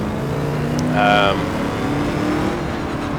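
A Ford Boss 302 racing at night on the Moravia circuit in Project CARS, its engine a steady droning hum with one brief rise in revs, heard under a talking voice.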